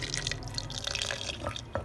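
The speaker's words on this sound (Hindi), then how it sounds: "थोड़ा सा हमने पानी शामिल करना है" Water trickles and drips into a blender jar for grinding lentils for pakoras, a faint steady splashing with light droplet ticks close by.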